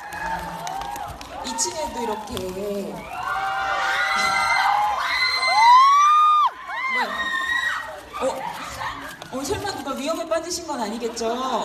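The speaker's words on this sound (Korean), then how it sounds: "아름다운 환호성 계속 해주시기 바라고요." Loud crowd cheering fills a cinema live talk event for the film The King, with shrieks and whoops swelling to a peak, then dropping off as a voice speaks over the remaining excited crowd.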